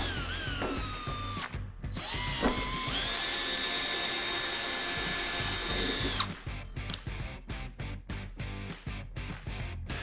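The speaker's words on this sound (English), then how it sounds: "With our pilot hole drilled, we're going to go ahead and step up to an 11/64 drill bit." A power drill with an 11/64 bit whirs steadily for several seconds, then bursts into short, choppy pulses as it bites into material, close and loud.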